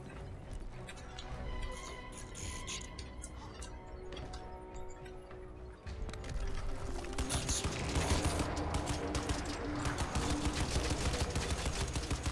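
Turret gunfire in the video game Crysis 2, rapid bursts of automatic fire with crashing impacts, growing denser and louder in the second half, with no talking.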